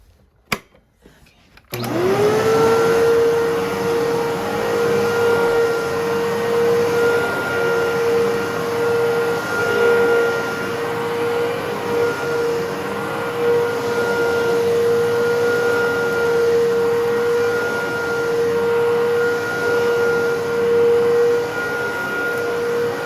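After a brief pause, a vacuum cleaner motor whirs up and runs steadily at a loud, constant pitch, with a steady whining tone throughout.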